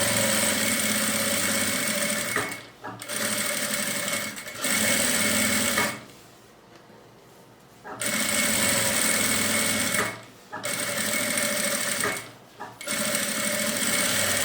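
A sewing machine stitches a lining fabric seam in fast, steady runs, loud and close, stopping briefly several times with one longer pause before running again.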